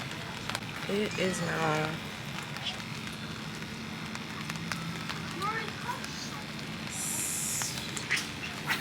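Rain patters steadily on a beach umbrella up on a pier, a soft continuous hiss with ducks quacking nearby and a brief spoken line.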